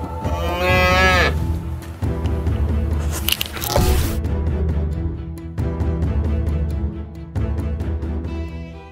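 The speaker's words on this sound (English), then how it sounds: "tame the mighty cows, beam them up" Cows mooing in the video game Moo Lander, several loud drawn-out moos close up, mixed with squishy game effects and bursts of noise, no talk.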